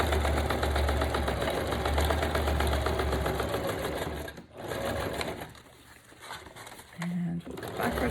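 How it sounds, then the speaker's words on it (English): A sewing machine stitching fabric, a close, rapid mechanical whirring and clatter that runs steadily for about four seconds, then breaks off into short pauses and brief bursts. "let's just sew this guy down really quick"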